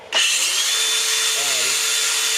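Dewalt DCG405 18 volt 125mm cordless angle grinder starting up with a sharp onset and spinning at a loud, steady high-pitched whine, close and alone for about two seconds.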